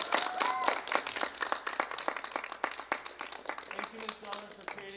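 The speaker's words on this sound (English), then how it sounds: "let's give her a round of applause, guys" Scattered clapping from an audience for Ms. Zeller, a light patter of hand claps running under a person talking throughout.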